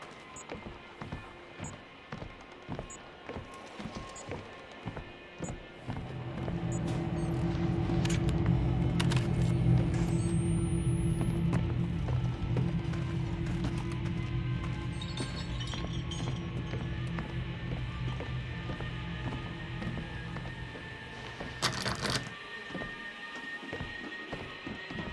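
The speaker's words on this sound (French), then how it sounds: "J'entends des bruits de pas, c'est ignoble." Footsteps in the horror game Outlast 2, a steady run of regular thudding steps that gives way to a loud, sustained rumbling drone with scattered clinks and knocks.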